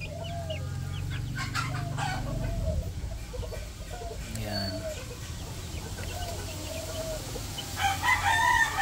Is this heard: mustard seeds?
no